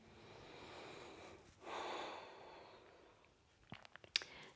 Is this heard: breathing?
yes